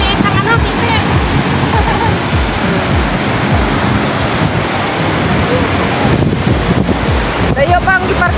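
Sea waves wash in continuously at a beach with strong wind buffeting the microphone, a loud, steady roar of surf and wind throughout.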